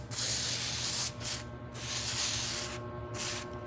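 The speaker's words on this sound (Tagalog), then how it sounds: "I-spray ko lang dito." Mototech penetrating oil is sprayed onto a neglected bike's headset in several hissing bursts of about a second each, loud and close with short pauses between.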